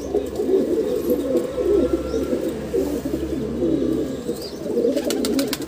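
Steady low pigeon cooing fills the clip, a soft continuous murmur of several birds close by in a loft, with a few faint higher chirps near the end.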